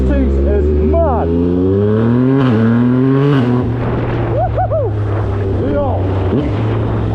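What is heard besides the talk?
motorcycle with new exhaust roaring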